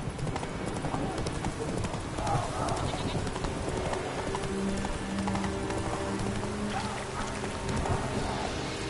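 A horse gallops in The Witcher 3: Wild Hunt, Hearts of Stone DLC, with steady, rhythmic clip-clopping hoofbeats that stay close and continuous, mixed with other game sounds and a voice.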